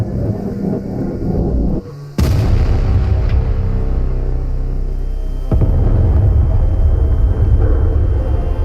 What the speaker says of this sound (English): What's going on? The explosion!